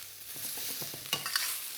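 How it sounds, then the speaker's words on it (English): Green beans searing in a hot wok, turned over with a utensil: soft sizzle under a few light scraping and tapping stir strokes, close but fairly quiet, no talk. "go underneath them, turn them over, and then sear again"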